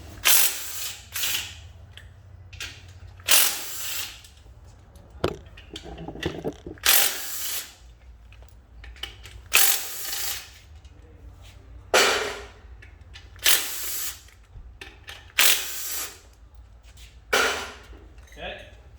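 Short, sharp bursts from an impact gun on a long extension hammer at a bolt on an M5R1 transmission during disassembly, repeating irregularly about every second or two, loud and close against a low background hum.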